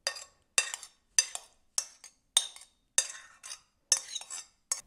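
A utensil stirs mashed boiled potatoes mixed with mushrooms, onions and garlic in a bowl, making about eight evenly spaced soft, wet scraping strokes with near silence between them.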